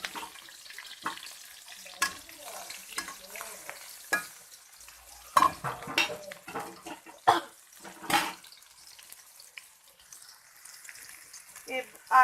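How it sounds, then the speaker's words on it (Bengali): Onion and green chilli dropped into hot oil in a wok for carrot noodles, giving a steady close sizzle with intermittent scraping and stirring clatters; a voice speaks briefly. "এবার এতে পেঁয়াজ কাঁচামরিচ ঢেলে দেব।"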